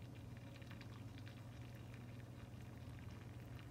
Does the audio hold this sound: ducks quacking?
no